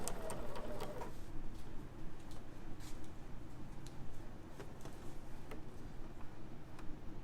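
A sewing machine stitches a zip, running in a steady continuous whir with faint regular ticking clicks throughout, close and alone without speech.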